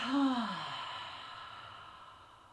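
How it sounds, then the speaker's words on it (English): A single deep exhale through the mouth during a yoga class, starting with a brief voiced tone and trailing off into a long, fading breathy rush. "Take a deep breath in. And then exhale through the mouth."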